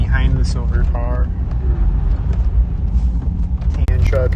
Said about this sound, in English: And then this black truck is behind the silver car.